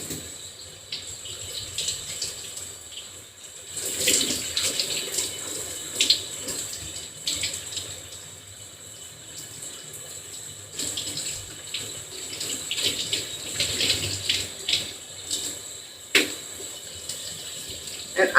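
Water runs from a tap while dyed locs are rinsed, a continuous splashing flow that swells into louder gushes at times.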